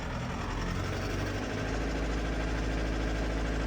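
A Mercedes Sprinter diesel engine runs steadily and roughly during injector coding after a P3100 injector replacement, a loud, continuous, close-up mechanical drone with a knocking, vibrating edge.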